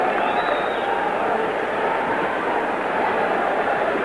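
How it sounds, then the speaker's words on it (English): Steady roar of a large arena crowd before the Muhammad Ali versus Jimmy Young boxing bout, a dense unbroken wash of voices that stays loud and even throughout. "Now you begin to hear the crowd."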